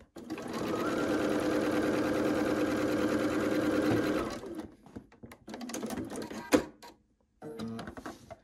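A sewing machine stitches a quilt seam in one steady, close run of about four seconds, then stops and gives way to quieter handling noises, with a sharp clack near the end.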